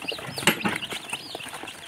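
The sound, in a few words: chickens clucking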